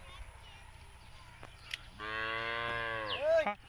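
A village cow gives one long, loud moo close by, after a short stretch of quiet background noise.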